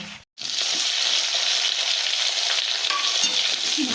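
Lentil dumplings (bori) and potatoes frying in oil, a loud steady sizzle after a brief cut near the start, with occasional stirring scrapes and no talking.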